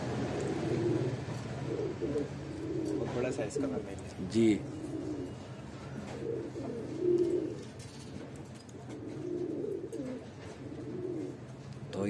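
Kasni Lalsare pigeons in the Royal Loft in Bhopal, giving soft repeated coos and rustles that come and go under a voice.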